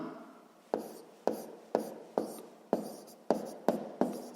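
Pen strokes scratch across paper during a sixth-grade math exercise, eight crisp, regularly spaced scratches close up against a quiet background.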